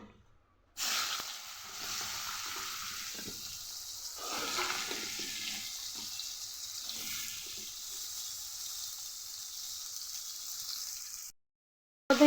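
Potato and pointed gourd pieces fry in a hot pan with a steady, continuous sizzle. The hiss runs loud and close throughout, with a few brief stirring shifts and no talking.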